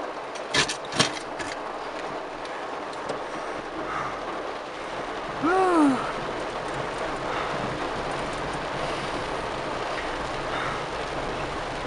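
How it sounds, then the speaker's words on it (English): Rain falls steadily outdoors as a constant broadband hiss. A few louder knocks come near the start, and a brief chirp sounds midway. "Told you we had more rain coming."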